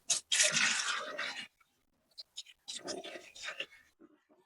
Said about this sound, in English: do the test run by pouring it in the sink